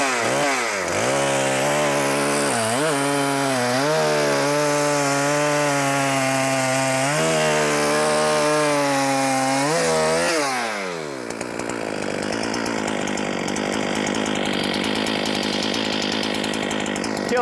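A Holzfforma G395XP chainsaw, a clone of the Husqvarna 395XP, roars loudly at high revs for about ten seconds with its pitch rising and dipping, then sinks into wood, turning into a rough, gritty cutting drone.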